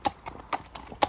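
A horse ridden by Molly moves with rhythmic clip-clop hoofbeats, about four or five distinct footfalls in quick succession, close and clear on firm ground.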